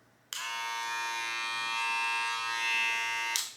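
A cordless hair clipper switches on and runs as a steady, fairly quiet electric buzz for about three seconds, then cuts off.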